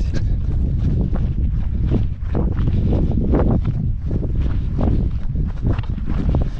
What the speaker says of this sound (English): The wind isn't super strong today, but when you're exposed at the very top, you feel it a lot more.